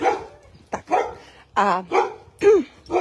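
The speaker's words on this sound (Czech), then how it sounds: "protože tady je sousedův pes." A neighbour's dog barks in a handful of short, separate yips and woofs at moderate distance, with a person speaking briefly between the barks.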